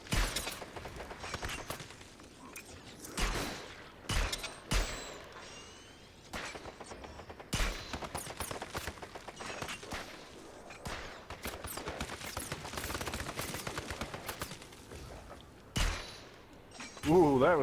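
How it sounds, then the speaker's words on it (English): Shotgun in a VR shooting game, sharp, loud blasts at irregular intervals with clicking reload mechanics between shots, while people talk in between. "I was using my shotgun. Now reloading my shotgun."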